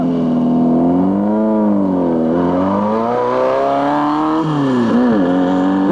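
An off-road race vehicle at the Reno 400 start roars close by, its engine pitch climbing and swooping through revs before dropping sharply near the end, loud and continuous with no talk.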